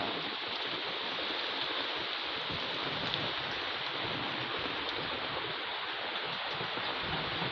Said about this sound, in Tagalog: Umulan ka rin kahit saglit lang.